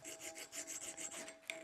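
Hand file rasping mill scale off a metal flat bar, a quick series of about ten rhythmic scraping strokes close up, ending with a small sharp click.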